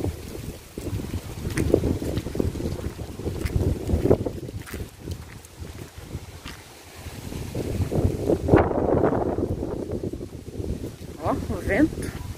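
Outdoor wind gusting across a cemetery, a steady broadband rush that swells and eases over the whole stretch, heard up close with microphone buffeting and people talking throughout.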